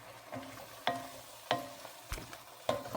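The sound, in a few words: stirring tomato mac soup with spices in a pot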